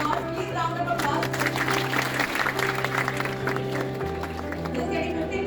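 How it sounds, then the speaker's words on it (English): Audience applause fills a hall at a hackathon prize ceremony as first-prize winners are announced, steady dense clapping throughout with a sustained low musical tone underneath. "Please round of applause."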